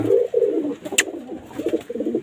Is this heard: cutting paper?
no